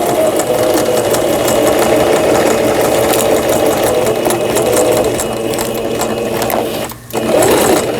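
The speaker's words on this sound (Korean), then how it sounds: "그 다음에 가장 중요한 3번의 지그잭 바느질이 되겠습니다." A Singer 5400 sewing machine runs a zigzag stitch with a steady, fast mechanical whir and ticking. The stitching is close and continuous, with a brief pause near the end before it resumes.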